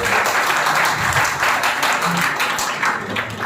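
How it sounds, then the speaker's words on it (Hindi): A school audience at a Teachers' Day celebration applauds a teacher coming up to be honoured, giving a steady, full round of clapping that stays loud and even throughout, with faint voices under it. "अंजलि जी के लिए एक बार जोरदार ताली"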